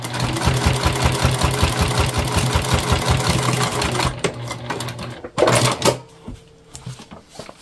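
A sewing machine top stitches a pack, running in a steady rapid rhythm for about four seconds, then stopping, followed by a few short handling clatters and a brief burst near the end.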